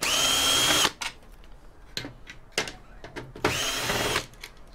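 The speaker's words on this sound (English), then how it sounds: "We'll see how far we can get into it by undoing a few screws here." Power driver backing Torx screws out of an oscilloscope casing, with two loud sustained whirring bursts at the start and end and lighter clicks and handling knocks between them.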